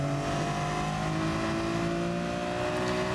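A BMW race car engine in Gran Turismo Sport drones steadily under load, its harmonic tones slowly rising as it accelerates, loud and continuous throughout with no voices.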